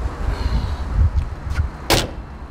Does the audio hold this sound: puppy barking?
no